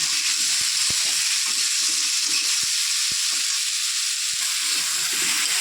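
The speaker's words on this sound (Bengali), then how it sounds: "একটু ভাজা ভাজা করে নেব" Pumpkin pieces seasoned with salt and turmeric fry in a pan, giving a loud, steady sizzle with scattered clicks of stirring throughout, with no talking.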